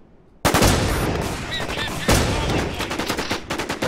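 Rapid bursts of gunfire in the online shooter War Inc Battlezone: loud, dense volleys erupt after a brief quiet start, surge again midway, then break into fast, sharp individual shots near the end.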